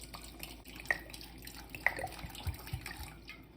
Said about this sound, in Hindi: अब इसमें पानी डाल देते हैं।